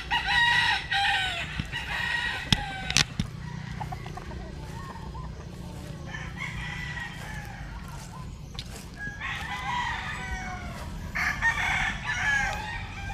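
Roosters crow repeatedly among clucking chickens at a poultry farm, the long harmonic calls rising and falling in overlapping waves over a steady backdrop of flock noise, some birds near and others farther off.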